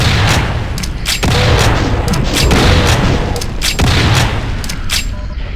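Rifle alternate fire in a spooky Doom map, booming in loud, repeated bursts of tight shots at uneven intervals, each sharp crack followed by heavy rumbling from the ongoing fight.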